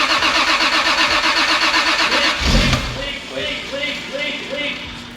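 A Toyota Supra project car's engine cranks with a steady rhythmic starter whir, then catches and settles into a loud uneven idle, close up.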